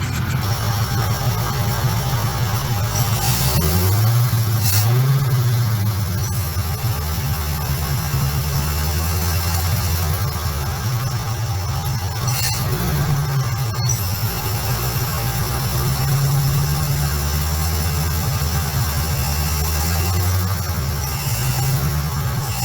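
Carbureted car engine with the breather removed, revving steadily and loudly close up, its pitch rising and falling across several throttle blips over a constant roar.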